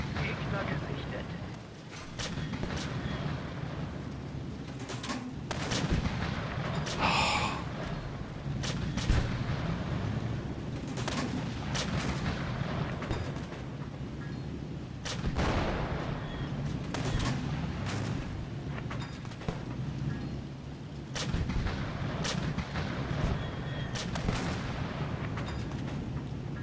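Heavy tank cannon fire in a combat video game, with repeated booming shots over a constant engine rumble and battle noise, while a person speaks throughout.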